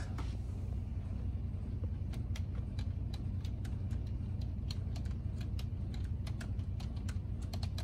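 Steady touch-typing on a computer keyboard, with crisp, irregular key clicks that run continuously over a low background rumble, close and moderately quiet.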